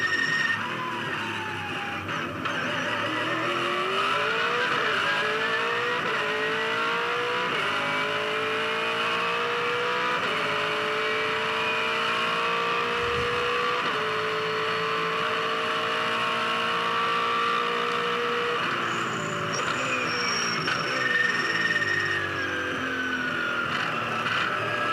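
A V8 Supercar driven by Lowndes at the Tasmania hairpin during a 2004 championship race, engine howling loudly as it brakes, downshifts and climbs back through the gears, rising and falling pitch sustained over the whole stretch without commentary.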